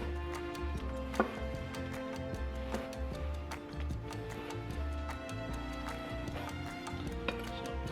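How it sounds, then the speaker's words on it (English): A Damascus kitchen knife slicing through rolled ham on a cutting board, giving a steady series of sharp, close ticks and taps over music-like tonal background. "Roll the ham like a roll, like so. And then we'll just slice"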